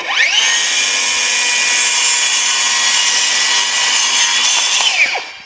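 A power saw whines up and cuts steadily through wood for several seconds, loud and close, then spins down.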